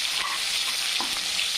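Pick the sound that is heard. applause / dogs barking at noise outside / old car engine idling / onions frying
onions frying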